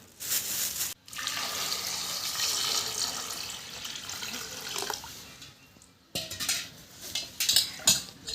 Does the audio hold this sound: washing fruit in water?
yes